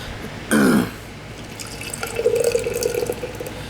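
A short gushing splash of Sapporo beer poured aggressively into a glass mug, followed by a softer fizzing, bubbling settle close by.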